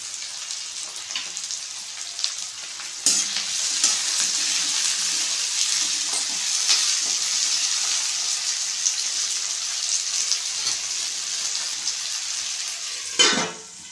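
Tomatoes sauté in a pan with a constant bright sizzle for the whole stretch, close and steady, broken only by a few soft knocks and a clank near the end.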